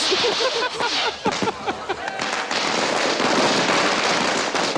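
Rapid bursts of Indian firecrackers crackle and pop continuously, loud and dense, with a faint voice underneath at the start.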